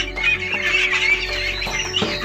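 Chicks cluck and cheep busily up close as one is caught, a dense chorus of shrill calls with no talking.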